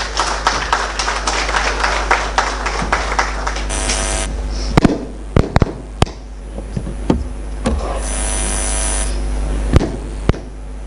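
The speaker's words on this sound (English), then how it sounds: "Please let's receive her with applause" An audience at a Ghana Police press briefing applauds. The clapping starts as a scattered, moderately loud patter, then thins to a few isolated sharp claps over a steady electrical hum and occasional high buzzing tones.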